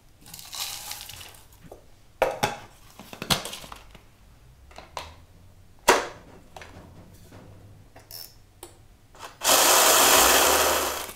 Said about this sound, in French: un biscuit fait à base de céréales que l'on va mixer